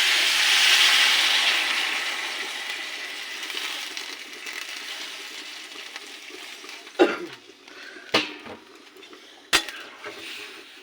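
Water is poured onto soaked vegetables in a cooking pan for shukto, the Bengali mixed-vegetable dish, giving a rushing hiss that fades, followed by a few sharp clinks of utensils.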